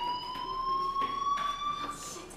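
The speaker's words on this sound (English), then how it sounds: "do you hear that fire alarm? That means you should be outside." A steady electronic fire alarm tone from the video game Life is Strange, a continuous high beeping whine holding level and filling the whole moment with no voices over it.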